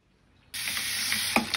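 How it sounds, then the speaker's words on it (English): Hot water gushes into a sink, starting abruptly after a brief quiet and holding as a steady, close hiss with a few small splashes. "So, put hot water in the sink."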